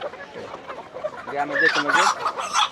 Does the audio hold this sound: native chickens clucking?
yes